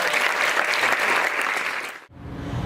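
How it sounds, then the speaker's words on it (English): Loud audience applause at an education convention, a thick burst of clapping that cuts off abruptly about two seconds in, leaving quiet room tone. "So, general round of applause."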